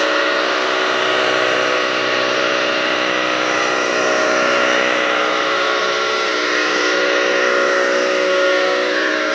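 An IK Foam E Pro 2 battery sprayer with an orange nozzle lays wet foam on the side of a car, giving a loud, steady hiss over a constant motor whine that runs unbroken throughout.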